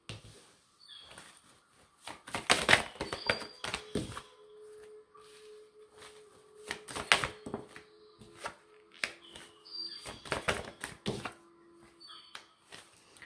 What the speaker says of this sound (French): je n'avais pas mélangé les cartes